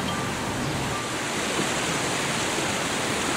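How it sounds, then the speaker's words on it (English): A waterfall in the Faroe Islands roars as a steady, loud, broadband rush of falling water from start to finish, with no voices and no breaks. "We've got a waterfall right there."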